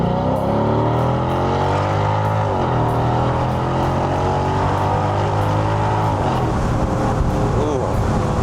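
A Mercedes-AMG SLK55 pulls away hard from a stop at a red light, engine revs climbing through the gear, then lifts off throttle with a burbling overrun, loud and close.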